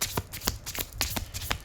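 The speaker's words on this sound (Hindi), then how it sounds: "5 कार्ड ही निकालूंगी मैं यहाँ से।" A deck of tarot cards is shuffled by hand during a reading, giving a series of crisp riffling bursts about every quarter second, close and clear with no talking.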